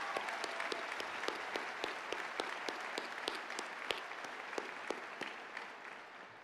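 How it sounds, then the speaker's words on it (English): Audience applause at a spring undergraduate university commencement ceremony, a steady moderately distant wash of many hands clapping with sharp individual claps standing out, holding even and fading slightly toward the end. "Please join me in a round of applause for these platform guests."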